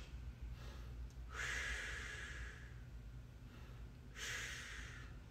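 Two deep breaths during a stick mobility stretch, each a close, airy rush of air lasting about a second, with quiet in between and no speech.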